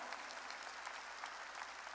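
A church congregation clapping during a sermon, faint distant steady applause spread through a large room for a couple of seconds.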